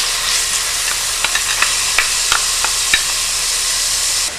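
Chopped onion and crushed garlic sautéing in hot oil in a pan, giving a loud, steady sizzle and frying hiss with a few faint clicks of stirring over it; no voices.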